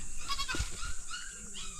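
A goat bleats nearby on a farm, a few wavering, nasal calls rising and falling over under two seconds, fairly faint but clear against quiet surroundings.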